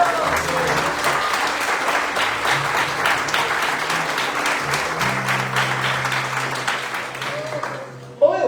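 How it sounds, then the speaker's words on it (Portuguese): A church congregation claps during a Portuguese-language celebration service, a loud, dense burst of applause with a low musical tone sustained beneath it, fading out near the end. "Você pode aplaudir o Senhor?"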